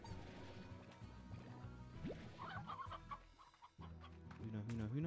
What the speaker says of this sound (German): Ist das ein Huhn?